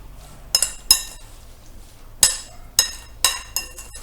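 Utensil clinking against a dish while chili is stirred into chimichurri, sharp metallic taps spaced irregularly over a quiet background, close and fairly loud.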